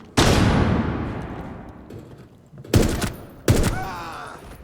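A flash grenade and gunfire in Rainbow Six Siege: a loud sharp blast that rings and decays, followed by two more heavy bursts of gunfire close up.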